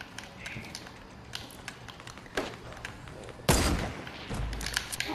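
Gunfire in an online shooter game, including a sniper shot, lands as scattered taps and then one sharp, heavy report followed by a low thud, with faint voices in the background.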